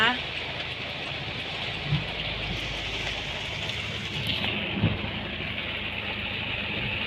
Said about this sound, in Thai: ฝนไม่มีท่าทีว่าจะหยุดเลยนะคะ